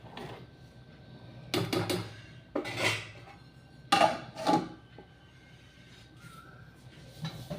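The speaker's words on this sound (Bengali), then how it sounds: "ভাতটা একবার উতল এসেছে, একটু নাড়া দিয়ে দিই।" Rice boiling in a pot on a home kitchen stove is stirred with a utensil, giving several short, quiet scraping and clinking bursts against the pot, close by, with soft background between strokes.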